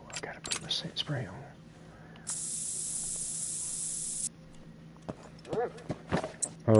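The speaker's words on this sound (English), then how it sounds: "Oh, I gotta put my scent spray on." Scent spray in the hunting video game theHunter: Call of the Wild gives a steady two-second hiss in mid-clip. Casual talk comes before and after it, with occasional soft footsteps and rustling.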